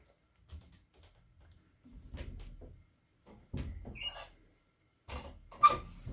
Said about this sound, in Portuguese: Samuel, abre a porta.